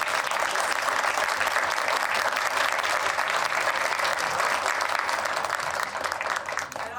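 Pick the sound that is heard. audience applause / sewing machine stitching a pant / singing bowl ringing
audience applause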